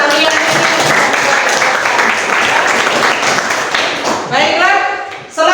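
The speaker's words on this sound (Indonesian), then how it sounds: "Tepuk tangan buat kalian." A classroom of students claps together for their classmates, steady dense applause lasting several seconds before tapering off, with a voice speaking briefly near the end.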